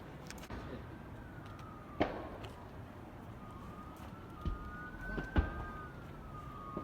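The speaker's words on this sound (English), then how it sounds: "Ambulance." An ambulance siren wails from a distance beyond trees, its rising and falling tone carrying steadily through outdoor background noise with a few louder bumps.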